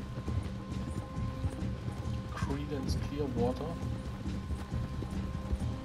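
Horses clip-clop at a steady trot in the western video game Red Dead Redemption 2, hoofbeats running under continuous talk and in-game music through the whole stretch.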